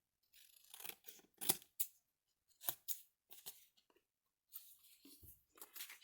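Scissors snip through a paper tag in a string of short, crisp cuts with brief pauses between them, close and fairly quiet, with no voices.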